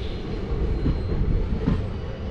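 A passenger train on the Mysuru to Chamarajanagar line rumbles along steadily, close and loud, with a continuous rolling roar and faint wheel clatter, no talk.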